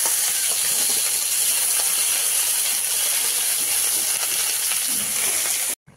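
Bottle gourd greens hitting hot oil in a wok already holding fried chopped onion, five-spice seeds and dried red chillies give a loud, steady broadband sizzle that runs unbroken until it cuts off sharply near the end.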